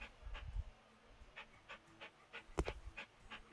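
Dog in the House Flipper video game panting, quiet rhythmic short breaths repeating steadily, soft and close with a brief sharper sniff midway.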